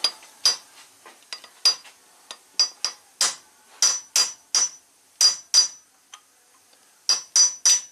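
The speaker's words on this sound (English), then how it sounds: "let's try a little brass punch and hammer on." Sharp metallic strikes of a hammer on a brass punch against an engine valve of a 1967 Triumph GT6, tapping in uneven bursts of two or three, close and ringing, with brief pauses between.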